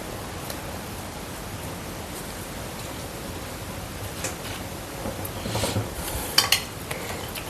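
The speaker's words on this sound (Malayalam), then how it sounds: "നല്ലപോലെ ഒന്ന് ഇളക്കി യോജിപ്പിക്കാം" A spoon stirs fenugreek powder and asafoetida into homemade lemon pickle in a bowl. It makes a steady, soft scraping that grows a little louder near the end, with a few sharper clinks and no talking.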